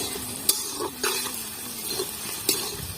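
Marinated meat goes into a hot pan while cooking for a New Year picnic. A steady sizzle runs throughout, broken by a few sharp scrapes and clinks of a utensil being stirred.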